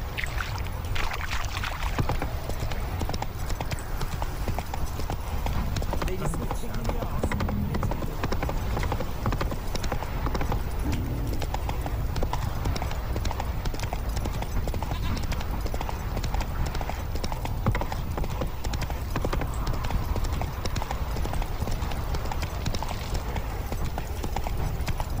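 Roach the horse trotting in The Witcher 3, a steady, continuous clip-clop of hooves with a regular rhythm, close and fairly loud throughout over a constant ambient bed.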